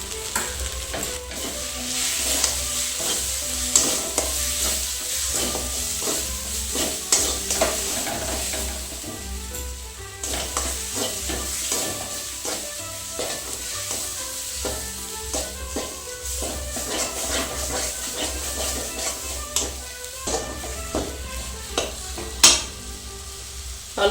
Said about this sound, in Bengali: সমস্ত মশলাগুলোকে একটু ভালো করে কষিয়ে নেব।